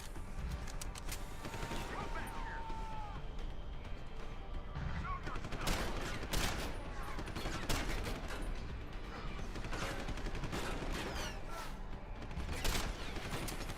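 Bursts of gunfire and impacts in the video game Deus Ex: Human Revolution crackle throughout at moderate loudness, with repeated sharp shots and faint voices mixed in.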